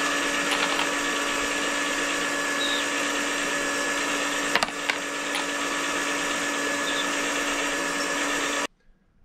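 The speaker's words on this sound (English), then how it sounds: "Now I'm going to go ahead and deburr the case mouths." Steady mechanical whir of a powered case-prep tool deburring the mouths of 6.5 Creedmoor brass cartridge cases, running continuously and fairly loud with no talk, then cutting off abruptly near the end.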